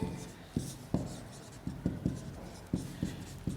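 Chalk or marker strokes on a classroom board during a physics lesson on concave mirrors, sharp taps and short scratching strokes in an uneven rhythm, close and fairly quiet.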